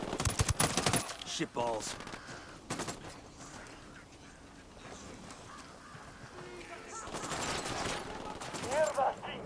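Gunfire in the video game Ghost Recon Wildlands: sharp, rapid bursts of shots in clusters at the start and again near the end, mixed with shouting voices.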